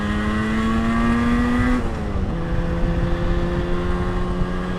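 A 1980 Moto Guzzi 250 TS motorcycle engine drones loud and close, its pitch rising steadily before dropping at a gear change and climbing again as the bike accelerates.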